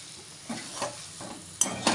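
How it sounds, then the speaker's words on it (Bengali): Banana flower ghonto sizzles softly in a pan while being stirred, a brief faint frying hiss broken by a few scraping strokes and light spoon taps at the end. "এবার এটাকে ভালো করে নেড়ে চেড়ে নিয়ে নামিয়ে দেবো"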